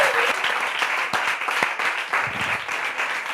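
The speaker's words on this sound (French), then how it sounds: "on peut applaudir !" Studio audience at a Bible quiz show applauding, a dense steady round of clapping lasting throughout, with a few sharper individual claps standing out near the front.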